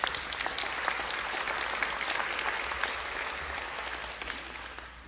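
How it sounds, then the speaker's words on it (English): Audience applause for a Medicaid work group at an Illinois event with Gov. JB Pritzker, a steady dense wash of clapping from a sizable crowd that holds fairly even, easing slightly toward the end. "Can we give the Medicaid work group a round of applause?"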